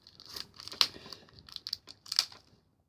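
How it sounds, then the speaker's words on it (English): Shopkins season 3 toy packaging being torn and crinkled open by hand in a few sharp bursts of ripping plastic and foil, close and loud against near silence. "This is hard to open."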